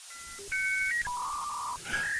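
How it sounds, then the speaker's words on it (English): A touch-tone phone dials, sounding a short string of distinct beeping tones of different pitches in quick succession, clear and close with no voices. "Touchtone phone."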